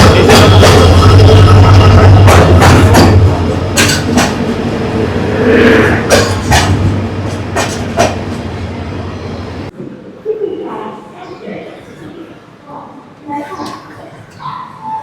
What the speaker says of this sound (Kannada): ನಮ್ಮ ಟ್ರೈನ್ ಬಂತು ನೋಡ್ರಿ